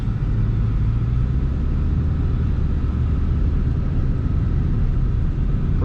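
Car engines rumble steadily as vehicles roll in at a night street racing event, a continuous low droning with one engine note rising briefly early on, no voices.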